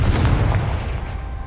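A Confringo blast spell fired in the Hogwarts Legacy video game, a single loud booming explosion that rumbles heavily and stays thick and low, gradually fading through the rest of the moment with no talking.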